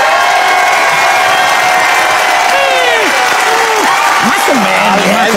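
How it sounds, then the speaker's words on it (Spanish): A studio audience at a comedy joke-battle show applauds and cheers loudly for Teo González, with dense clapping under whoops and shouts, a few high voices crying out, and continuous crowd noise throughout. "El aplauso para el señor Teo González."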